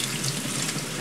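Water pours steadily from a tap into a container in a home kitchen while Vietnamese egg rolls are being made, a close, even rushing splash with no voices.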